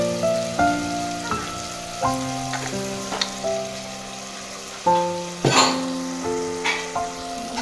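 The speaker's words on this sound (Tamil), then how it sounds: "அரைச்சி வச்சு இந்த மாதிரி சேர்த்திக்கிட்டிங்கன்னா எண்ணெயில் நல்லாயிருக்கும்" Ground shallots frying in hot oil for coriander biryani, a crackling sizzle heard close but partly covered by louder melodic background music.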